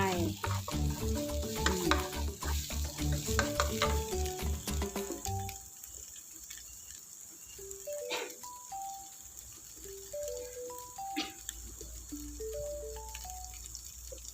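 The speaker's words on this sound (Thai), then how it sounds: "ผัดลงไป" Garlic aromatics stir-fried in a pan for Thai chicken rice, a soft steady sizzle running beneath light background music that fades partway through.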